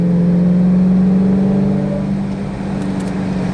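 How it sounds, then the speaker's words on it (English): A 2019 Dodge Challenger Hellcat in Sublime paint drives with a steady, loud supercharged engine drone and whine that holds for the first two seconds, then eases slightly while the car keeps cruising. "Oh, just even hearing that supercharger whine."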